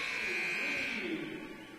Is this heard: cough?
no